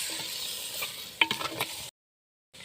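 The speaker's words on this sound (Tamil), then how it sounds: "உருளைக்கிழங்கு சேர்த்து நல்லா மிக்ஸ் பண்ணிக்கலாம்." A spoon stirs potato curry in a pan with a soft sizzle and a few scraping clinks, close, then a brief silence before faint sound returns.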